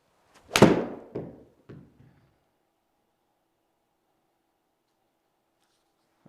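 A Titleist T100-S iron strikes a golf ball with one sharp, close click, followed by a couple of fainter thuds and then near silence.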